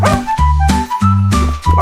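A puppy yips and barks in quick bursts within a bouncy French children's nursery song, the short dog sounds set against loud musical backing.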